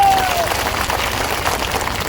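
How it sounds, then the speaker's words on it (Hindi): Applause from an audience at a community gathering, a dense steady wash of clapping that holds evenly loud for the full two seconds with no break. "तालियों की गड़गड़ाहट है।"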